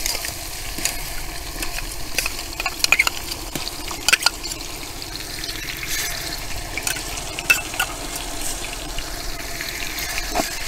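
Green chili, ginger, garlic and coriander paste fries with onions over a wood-fired stove, cooking misal for fifty people in a grape orchard. The wet sizzle is steady and moderate, broken by occasional stirring clinks.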